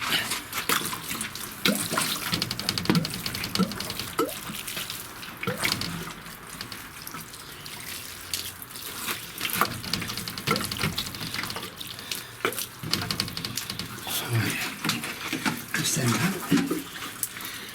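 Water splashes and pours steadily for several seconds onto garden plants, with scattered clatter and handling noises close by, while someone talks quietly at times.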